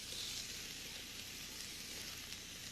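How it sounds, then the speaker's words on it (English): Sliced short rib beef sizzles steadily in a frying pan, a close, continuous crackling hiss with no talking. "the beef. I'll put that in the pan now"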